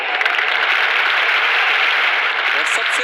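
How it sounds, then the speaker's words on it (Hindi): An audience welcomes a speaker onstage at an Atomy India diamond master event with a short burst of loud, dense clapping, with a voice talking alongside it. "प्लीज जोरदार तालियों के साथ स्वागत कीजिए डॉक्टर अब्राहम ली का।"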